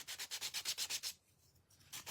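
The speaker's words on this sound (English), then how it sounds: "now let's sand our little gingy pieces and give them a little distressing." Sandpaper rubs over small wooden gingerbread cutout pieces in quick back-and-forth strokes, about ten rhythmic rasping passes up close, a brief pause, then strokes resume; no voices.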